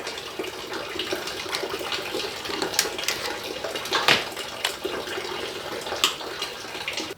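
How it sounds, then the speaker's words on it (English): Water drains from a tractor radiator in a steady splashing trickle, close by and fairly loud, with small irregular spatters throughout. "our radiator is about done draining, so I'll go ahead and shut that petcock and dump out this water"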